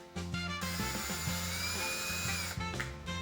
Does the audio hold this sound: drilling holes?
yes